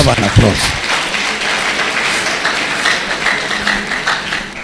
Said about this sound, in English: I think we deserve an applause.